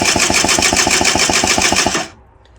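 Motorbike engine with no carburetor and low compression spun over by the starter during a compression test, a rapid, even chugging held for about two seconds before it abruptly stops.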